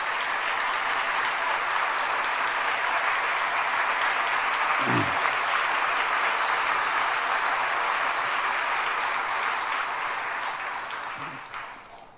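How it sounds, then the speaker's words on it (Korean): Warm, sustained applause from a church congregation welcoming visiting missionaries at a Friday all-night worship service, a dense even roar of clapping lasting over ten seconds before fading out at the end. "자리에서 일어나실 때 따뜻한 박수로 환영해 주시기 바랍니다."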